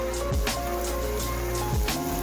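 Steady crackling sizzle of garlic frying in a pan, a continuous hiss with faint pops, fairly quiet and close.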